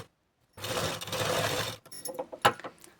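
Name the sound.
sewing machine stitching blouse side seams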